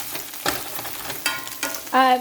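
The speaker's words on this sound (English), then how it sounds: "you can hear my eggs sizzling" Eggs sizzle in a frying pan, a soft crackle with scattered pops and scraping, ending in a brief high-pitched squeak.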